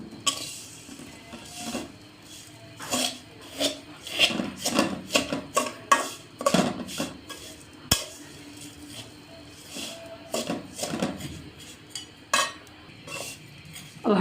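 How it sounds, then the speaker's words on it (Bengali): Semai vermicelli frying in a kadai, a metal spatula scraping and clinking against the pan in steady, irregular strokes throughout, close and moderately loud. "এবার ভালোভাবে সেমাইটা ভেজে নেব।"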